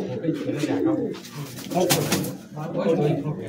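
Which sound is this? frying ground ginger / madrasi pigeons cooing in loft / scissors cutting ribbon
madrasi pigeons cooing in loft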